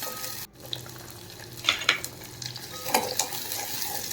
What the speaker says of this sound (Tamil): இதில் நல்லெண்ணெய் ஊற்றிருக்கேன், வெங்காயம் போட்டுக்கேன், நல்லா வணக்கிட்டேன்